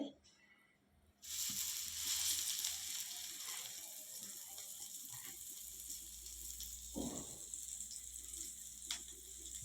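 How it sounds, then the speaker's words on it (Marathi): Battered pomfret pieces dropped into hot oil in a pan, a quiet start giving way to steady crackling sizzle, with a few soft clinks and a brief bubbling burst partway through. "एक एक पीस आता आपल्याला फ्राय करायचं आहे"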